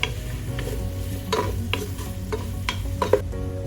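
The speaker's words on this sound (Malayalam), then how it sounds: "വഴണ്ട് വരുന്ന പോലെ നമുക്ക് ഇളക്കി കൊടുക്കാം." Onions cooking in a pan for Kerala-style pork roast are stirred with a spoon, giving a steady sizzle broken by intermittent scraping and clinking strokes.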